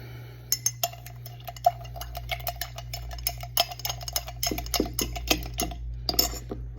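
A spoon stirs bourbon in a glass, giving a quick run of light clinks and ticks against the glass over a low steady hum, close and fairly quiet, with no talking.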